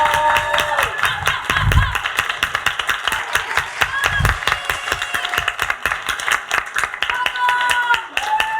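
Crowd clapping and applauding after a live performance at a community talk show event, sustained rapid claps filling the space, loud and near, with voices mixed in underneath.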